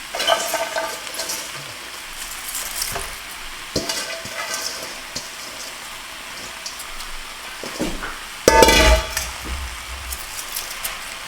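Cabbage cooks in a pot for a hearty beef and cabbage stew, giving a soft, steady sizzle and bubbling with occasional stirring clanks and a louder scrape near the end.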